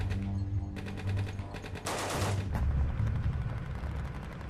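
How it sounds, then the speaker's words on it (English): A barrage of gunfire at the Branch Davidian compound near Waco during the 3 a.m. standoff, dense overlapping bursts of shots with a sharp louder volley midway, rumbling continuously throughout. "the Branch Davidians respond with a barrage of gunfire"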